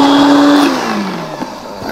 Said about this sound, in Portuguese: 250 gramas de farinha de milho no liquidificador. Junto com meia xícara de farinha de mandioca torrada biju. Aqui no liquidificador vamos bater até ficar belezinho.